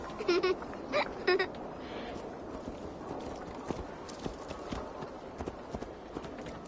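Horse hooves clip-clop in Assassin's Creed Valhalla, with a short burst of sharper sounds at the start followed by a soft, irregular patter of hoofbeats at moderate distance.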